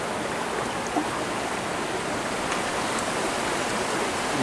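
River water rushing steadily through a fish ladder beside a river, a dense, loud, unbroken hiss of flowing water with no pauses.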